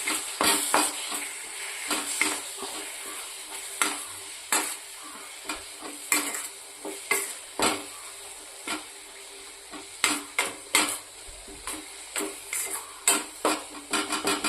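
Amaranth leaves with a pinch of turmeric being stirred in a pan for an onion-chili stir-fry: repeated scraping, clattering strokes in an uneven rhythm over a steady low sizzle, close and fairly clear with no talking.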